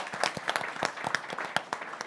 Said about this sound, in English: So Peggy Whitson, we have to give Peggy a round of applause.